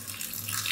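Water drains from a sink or bowl after hibiscus flowers are washed, a steady close splashing flow with no talk.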